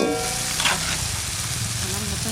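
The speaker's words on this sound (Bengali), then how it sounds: "পেঁয়াজ আর টমেটো ভাজা ভাজা হয়ে গেছে এবারে বাটা মশলা দেবো" Onion and tomato with ground spice paste fry in a pan while cooking sea white pomfret, giving a steady close sizzle with a brief stirring scrape near the start, heard alone.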